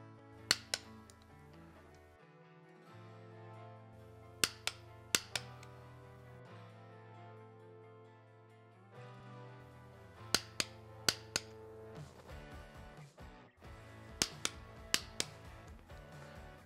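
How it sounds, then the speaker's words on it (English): An S&S Cycle cam chest plate's bolts are torqued down on a motorcycle engine with a torque wrench, producing sharp, distinct clicks in small clusters over steady background music. "we will torque each bolt down to 100 inch-pounds of torque in the sequence shown"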